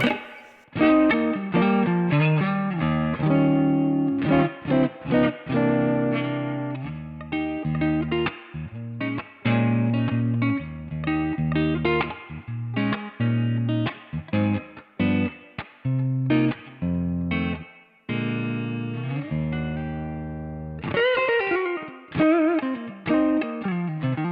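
Clean electric guitar played through a Valeton GP-50 Twin Reverb amp model, a steady run of plucked chords and single notes with a brief pause near the end, loud and close with no talk.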